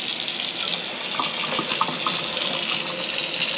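Water runs steadily from a push-button sink faucet, a continuous close splashing hiss into the basin that holds constant throughout, with no speech.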